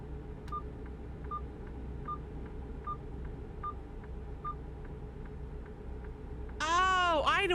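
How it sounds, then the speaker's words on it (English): A blind spot warning in a truck driving video game: a steady series of short, evenly spaced electronic beeps, about two per second, over engine drone, with a voice speaking briefly at the end. "That sound is telling me there's a car in my blind spot."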